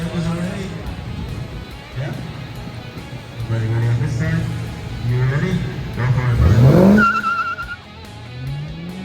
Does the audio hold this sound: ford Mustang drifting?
yes